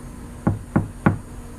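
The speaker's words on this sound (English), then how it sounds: "And they knocked on the gate," Three evenly spaced, solid knocks on a gate, close and clear, each a short dull thud against a quiet background with no talk.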